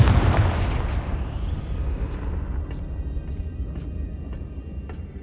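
A Confringo blasting spell going off in the video game Hogwarts Legacy: a loud, booming fiery explosion at the start that rumbles and slowly fades over several seconds, with faint clicks near the end.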